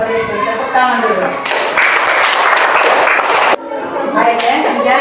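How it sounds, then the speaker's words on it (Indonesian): Children in an Indonesian classroom break into a burst of loud, close clapping lasting about two seconds, framed by a teacher's voice speaking before and after. "Tepuk tangan dulu."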